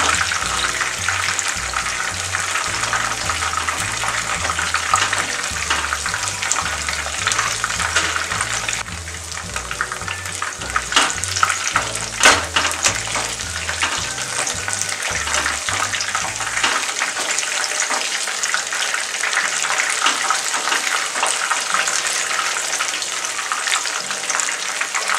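Chicken pakoda frying in hot oil over a medium flame, a steady close sizzle and crackle running loud and continuous, with a low rhythmic hum underneath that drops away partway through.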